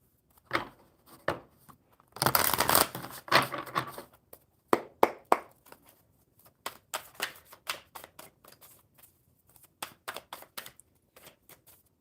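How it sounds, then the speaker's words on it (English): Tarot cards being shuffled by hand at a table, a dense riffling burst near the start followed by a scatter of short, crisp card snaps and taps, close and fairly quiet, with no talking. "One more shuffle."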